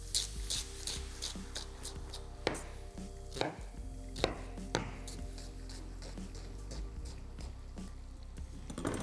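Knife chopping leeks and onions on a board for a Greek leek and cheese pie, a steady run of crisp, close cuts with a few heavier knocks mixed in and no talk.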